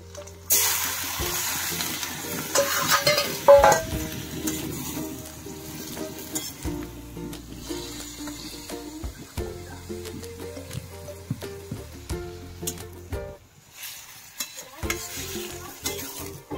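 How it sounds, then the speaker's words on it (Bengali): Magur fish and spice paste water sizzle in a pan, village-style cooking, with clattering stirring and scraping that settles into a softer bubbling fry and no talk. "এরপরে মাছটা দিয়ে দেবো আর মশলা বাটা জলটা দিয়ে দেবো।"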